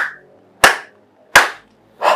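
Slow, deliberate hand claps, three sharp close smacks spaced about two-thirds of a second apart, loud and isolated with silence between them.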